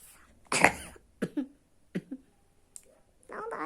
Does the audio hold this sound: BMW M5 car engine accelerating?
no